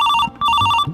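A telephone rings with an electronic two-burst bell tone, loud and close, a short pause between the bursts, no voices over it.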